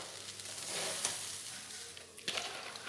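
Ingredients for chicken pulao sizzle in a pan while being stirred, making a close hiss with a couple of sharper scrapes of the spoon.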